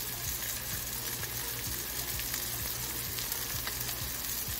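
Fish pieces frying in hot oil in a pan for a Tamil fish varuval, a dense, continuous crackling sizzle that holds steady and close throughout, with no talking.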